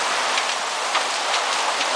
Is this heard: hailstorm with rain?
yes